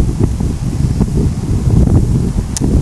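Wind buffets the microphone on a mountain top in a steady low roar with gusty rumbles, loud and close, no voices heard.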